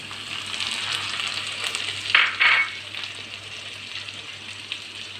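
Sliced onion and tomato frying in a pan, a steady close sizzle throughout with a brief louder crackle and hiss partway through.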